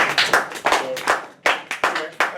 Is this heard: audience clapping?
yes